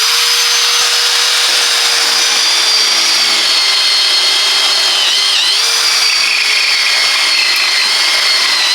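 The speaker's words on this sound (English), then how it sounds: "That's the Parkside Performance 20V cordless drill driver" A Parkside Performance 20V cordless drill driver, model PABSP 20 Li C4 with a brushless motor, runs in one steady, fairly loud whine for several seconds, its pitch wavering briefly partway through.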